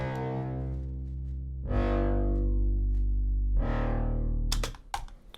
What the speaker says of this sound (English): I'm going to use a reverb that'll give it a bit of a sense of space.